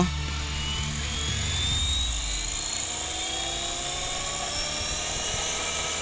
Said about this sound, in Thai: กดคำว่ารัน ฟังเสียงใบพัดให้หมุนจนสุดเสียง